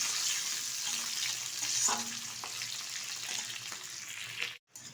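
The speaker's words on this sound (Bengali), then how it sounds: "এখন এই তেলের মধ্যে দিয়ে দেবো এই যে পাপড়ি ঝরানো পেঁয়াজ।" Onion petals hiss and crackle as they are stirred in hot oil, a close, steady fry that cuts off briefly near the end.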